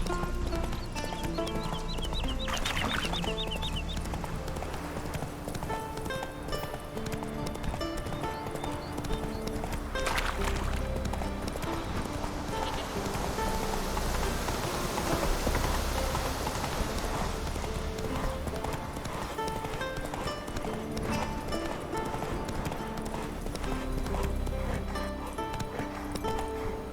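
Roach, Geralt's horse in The Witcher 3: Wild Hunt, trots steadily with rhythmic clip-clopping hooves over game music, with an occasional whinny. The sound stays close and continuous throughout.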